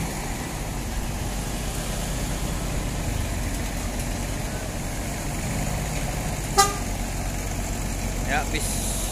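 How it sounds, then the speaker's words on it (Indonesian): A Rana Minang bus run by Transport Everest arrives at Kampung Rambutan terminal amid a steady idling engine rumble and busy terminal noise, with a short sharp horn toot partway through and a fainter one later, as people talk nearby. "Ya, bis dari Rana Minang juga ini teman-teman ya, transport Everest."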